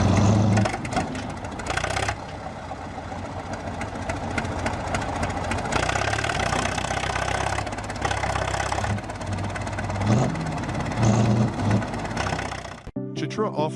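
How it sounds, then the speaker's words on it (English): A large yellow tractor strains to pull another tractor out of the mud. Its engine rumbles steadily and loudly throughout, and the sound cuts off abruptly near the end. "This giant yellow tractor is trying to pull another tractor out of the mud."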